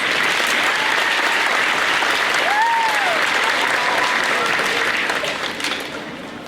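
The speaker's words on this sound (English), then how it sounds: "Let's give them a round of applause, please." A crowd at a fifth grade graduation ceremony applauds with sustained, dense clapping that fills the room, easing off toward the end, with a brief vocal sound mixed in.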